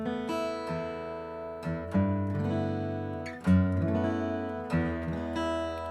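An acoustic guitar recorded with the microphone placed too high, thin on low end, strums and picks chords in short phrases with sharp attacks and ringing decays, played alone and close.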